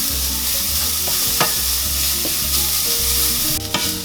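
Onions and garlic sauteing in a pan for spaghetti sauce, a loud continuous sizzle close up with scraping stir strokes and a sharper clatter near the end, no talking.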